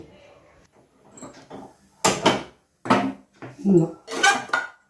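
A few close metallic clanks as a cooking pot is set down on a lit stove and handled, with faint background sounds before them.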